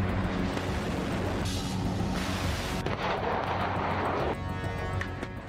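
Russian artillery fire from guns, rockets and missiles in the war in Ukraine comes as a loud, continuous wash of rumbling blasts and overlapping booms, with no voices.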